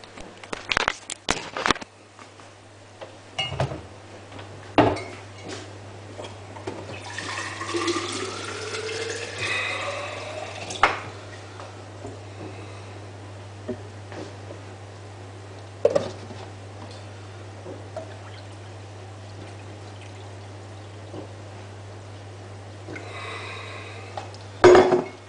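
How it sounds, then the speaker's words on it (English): Water is poured into a spinning container, giving a soft gurgling fill with rising tones in the middle, scattered knocks and clicks, all over a constant low electrical hum. "Next I'm going to put a little bit more water in."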